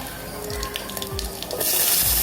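Onions drop into hot oil with cloves and fennel, and a sudden broad hiss of frying swells up partway through over a low, steady background hum.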